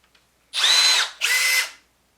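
A cordless power drill, either a Milwaukee or a Makita, whirs loudly up to speed in two close bursts, the first slightly longer than the second, with nothing else in the background.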